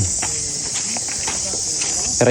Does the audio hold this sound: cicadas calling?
yes